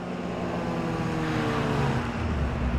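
A car engine hums steadily and close behind the player in the video game Underground Garage, a continuous low motor drone with a slight rise in pitch toward the end.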